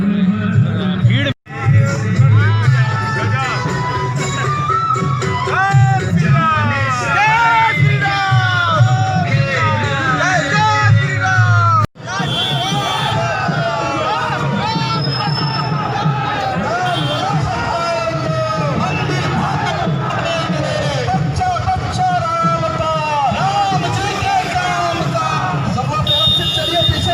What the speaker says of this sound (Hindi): भीड़